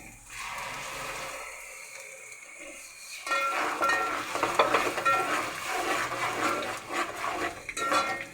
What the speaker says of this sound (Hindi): अब मैं इसमें ये टमाटर ऐड करूँगी।